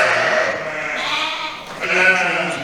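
Several sheep bleat inside a barn for a small-livestock operation, overlapping calls rising and falling close by with a louder burst near the end.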